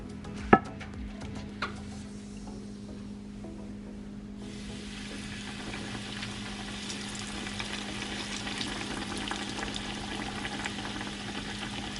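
Flour tossed into hot grease in a pan, ahead of frying pork chops, sets off a steady, close crackling sizzle after a sharp clunk, with a low hum running underneath throughout.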